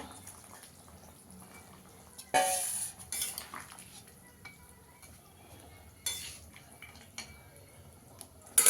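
Pieces of bata fish go into a pan for a Bengali fish curry, heard as sharp clinks and scrapes of utensils against metal in separate bursts over a quiet background.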